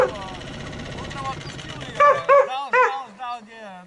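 A dog barks several times in quick succession near a rural lakeside hut, the yelps rising sharply over a background of people talking, then a few softer whimpering barks trail off.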